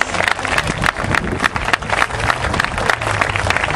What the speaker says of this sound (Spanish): fuerte el aplauso para Sensei Harry González